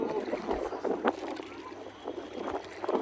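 A boat ride on Nainital lake brings a steady rush of wind and water noise, fairly low and continuous, with faint bursts of movement.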